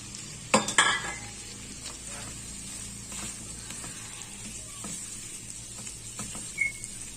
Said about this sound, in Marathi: या कोबणीमध्ये या केळ्यांना परत शिजू द्यायचं